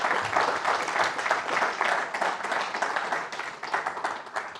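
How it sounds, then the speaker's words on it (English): Dense audience applause for a speaker on the main stage of the BSidesNCL 2022 security conference in Newcastle, loud and sustained with a gently pulsing texture from start to finish. "Clap for Anne, please."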